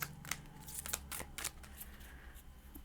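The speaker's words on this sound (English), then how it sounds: "I am going to also shuffle this one here." Tarot cards being shuffled by hand, a few quick, soft riffling bursts close by over a faint background hum.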